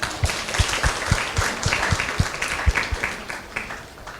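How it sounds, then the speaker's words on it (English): Audience applause at a school Gandhi Jayanti presentation by teachers, a steady patter of many hands clapping for several seconds with sharp individual claps standing out, moderately close and without speech. "Can we all clap for ma'am?"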